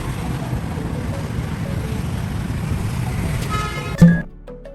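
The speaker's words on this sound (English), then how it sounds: "Cargo truck. Cargo truck." A cargo truck's engine drones steadily nearby with road noise, then a short loud horn blast sounds near the end before things quiet down.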